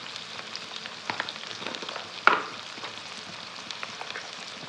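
Minced keema and spices frying in a pan, a continuous soft sizzle with scattered crackles and one sharp pop partway through, no voices.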